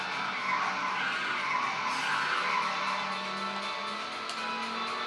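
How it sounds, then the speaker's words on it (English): Tyres squeal and skid on a car in the Daytona USA racing game on Sega Saturn, a sustained high screech over a steady engine drone, moderately loud and continuous. "Not so easy on the car. You're burning up the tyres."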